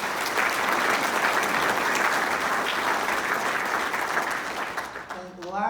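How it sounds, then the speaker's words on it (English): An audience at a State of the City address in Guelph applauds the city council and community, with sustained clapping that fades toward the end. "let's give them a round of applause"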